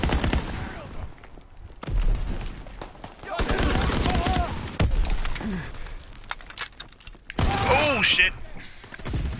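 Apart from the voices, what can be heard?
shotgun gunfire in a WWII video game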